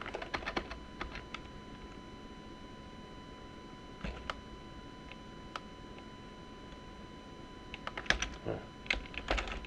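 Clusters of keystrokes on a computer keyboard, close and crisp, come in short bursts separated by pauses, with a quiet hum underneath and no talking.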